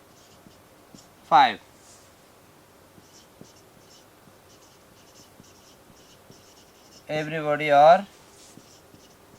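Soft, repeated scratching of writing on a board runs through the background, with brief spoken words in two places over it.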